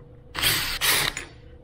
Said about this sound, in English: You're gonna use your tamper-resistant T25 Torx